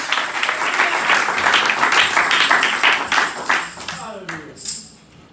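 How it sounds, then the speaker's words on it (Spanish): Church congregation clapping during a sermon, a lively burst of many hands that runs for a few seconds under an excited voice, then thins out as a short pause follows. "Dale palmas al Rey, porque Él se la merece"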